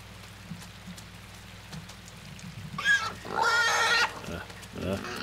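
A pig in the dystopian video game Inside lets out loud squealing grunts in two close bursts over a steady rain-like patter, with a voice reacting faintly underneath.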